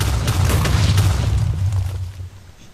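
A bazooka shot explodes in a video game with a loud, rumbling boom: dense low-end roar with crackling debris that holds for about two seconds and then fades out. No speech over it.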